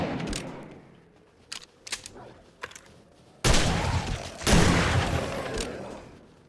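Shotgun blasts in the zombie survival game 7 Days to Die: a few faint clicks, then two loud booming shots about a second apart, each with a long rumbling decay.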